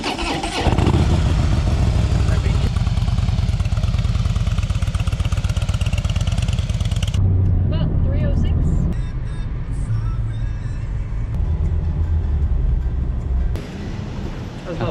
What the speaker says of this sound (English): let me have a go on this Harley Davidson